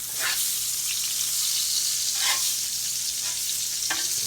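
Chicken fried steak frying in hot oil on gentle heat gives a steady, close, hissing sizzle, broken by a few soft crackling bursts and a light stir near the end.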